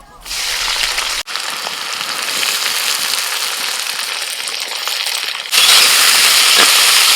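Sliced onions hit hot oil in a wok and break into a loud, dense, steady sizzle, close by, swelling even louder near the end as the frying intensifies.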